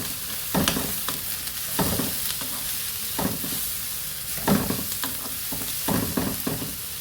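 Ingredients for a green chilli chicken curry with tomato fry in a pan, a continuous sizzle broken by repeated scraping stirs at an irregular rhythm, close and fairly loud.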